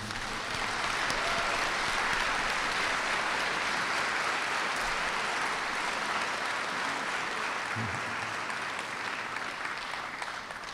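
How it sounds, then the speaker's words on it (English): Audience at a candidate forum for Principal Chief applauding the panel of candidates, a dense, steady wash of clapping that holds evenly for about ten seconds without pause. "joining me in a round of applause for all of our candidates"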